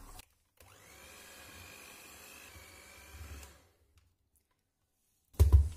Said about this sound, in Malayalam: ഇനി നമുക്ക് ലോ സ്പീഡില് ഒന്ന് ബീറ്റ് ചെയ്തെടുക്കാം.